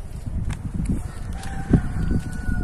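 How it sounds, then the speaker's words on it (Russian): A rooster crows in a garden plot, its call carrying over low background rumble and faint rustling, a single clear crow standing out briefly at moderate distance. "Ох, петушок как кричит."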